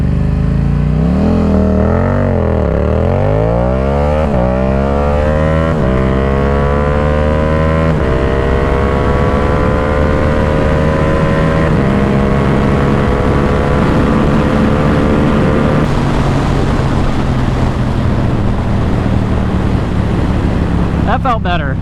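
A Yamaha R7 sport motorcycle launches hard and accelerates, its engine note climbing through several rising gear pulls with brief dips at each shift, loud and close with wind rush and a voice speaking over it.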